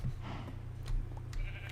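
Sheep bleating in the Minecraft video game, a few short, wavering baas sounding close over a steady low game hum.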